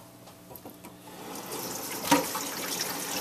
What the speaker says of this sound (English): We'll be cleaning these utensils quite frequently.